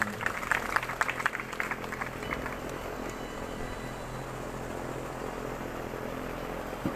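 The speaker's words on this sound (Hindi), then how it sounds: "ताली बजा दो एक बार।" Crowd clapping under the pandal at a Bhagwat Katha religious gathering: a short burst of claps in the first couple of seconds, moderately distant, that fades into a low steady hum with faint background voices.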